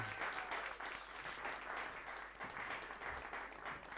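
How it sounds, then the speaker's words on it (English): A conference audience at the AfricArena Southern African Summit in Johannesburg applauds a group of tutors, an even, steady clapping from many people that sounds somewhat distant and quiet, lasting several seconds without speech. "Give them a round of applause, please"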